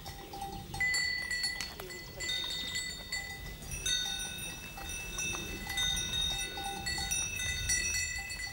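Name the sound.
goat herd trotting in pasture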